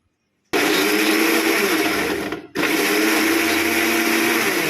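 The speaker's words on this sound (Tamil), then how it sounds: "அவ்வளோதான் அரைச்சிடலாம் மிக்சியில்" Kitchen mixer grinder pulverizing cut tomato, a loud steady whir that starts abruptly, cuts out briefly midway, then resumes at full strength with no talking over it.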